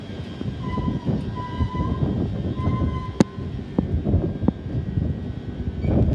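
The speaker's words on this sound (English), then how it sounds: "This is London King's Cross to Ely for Great Northern, formed of 2387." A Great Northern train, unit 2387, on the London King's Cross to Ely service runs through Cambridge North station with a steady rumbling roar, a faint tone and a few sharp clanks.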